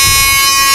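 A 9999000W power inverter under repair gives off a loud, steady electric buzz packed with sharp harmonic tones, droning without a break for under a second.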